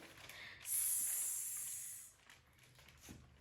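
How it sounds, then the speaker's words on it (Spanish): A snake hisses in one sustained, loud, breathy burst of about a second and a half, then fades to quiet room tone with a faint soft knock near the end. "Muy bien, la serpiente."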